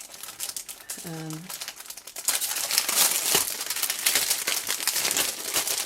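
Gold glimmer paper packet opened with dense crinkling and crackling, loud and close, becoming continuous in the second half; a brief voiced tone sounds early on.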